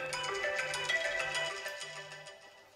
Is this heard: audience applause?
no